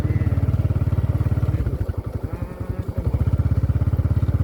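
A motorcycle rides along a forest trail among large trees, its engine thumping in a steady loud pulse close by, briefly changing pitch and rhythm midway before settling back into the same steady beat.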